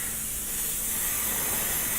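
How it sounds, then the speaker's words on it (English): Pledge floor polish sprayed from an aerosol can onto a Pegasus Hobbies War of the Worlds model kit, one continuous close hiss lasting about two seconds. "So we're just going to spray it all on."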